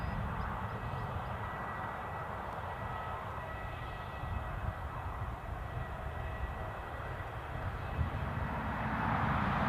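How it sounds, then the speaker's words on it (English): A plane at Newcastle Airport roars steadily for the whole stretch, a broad continuous engine rumble that swells slightly toward the end, with no talking. "that is probably going to be the last plane of the show"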